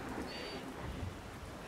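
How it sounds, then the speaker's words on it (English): Thunder rumbles faintly through a steady wash of rain during a storm, a dull low roll under constant patter, with no voices. "I got a feeling that he'd always hated the sound of thunder."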